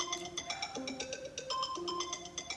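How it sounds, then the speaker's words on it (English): Alarm tone used as a phone ringtone, a quiet, bright electronic melody of short repeating chiming notes that bounce between pitches, playing alone. "This is like a ringtone."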